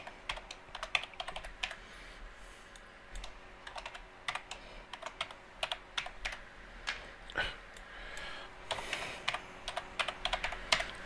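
Fingers typing on a computer keyboard nearby, quiet uneven bursts of clicking keystrokes with short pauses over faint room noise.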